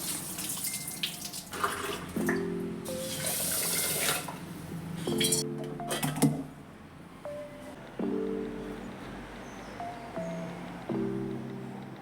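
Rice is washed under a running tap, with water splashing and swishing in bursts, interrupted by brief tonal clinks and squeaks from nearby.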